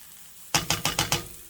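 Onions and peppers softening in a pan: a quiet background hiss, then five quick, close clanking strokes in an even rhythm, like a utensil stirring against the pan, with no talk.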